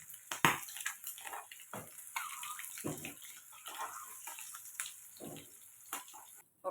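A kadai pan is washed under running tap water, with a faint steady water flow broken by scrubbing and scraping sounds and occasional louder splashes and clanks nearby.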